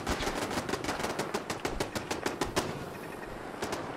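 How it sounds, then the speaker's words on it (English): Kill box turret gunfire in Fallout 4: a rapid, loud stream of automatic shots that rattles through most of the clip, then thins into scattered bursts near the end, with no talk. "Oh, watch the gunner get hosed by the kill box."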